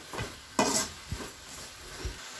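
Tomato thokku sautéing in a pan is stirred in a few separate scrapes, with a light sizzle between them. The strokes are close and moderately loud, and no one speaks.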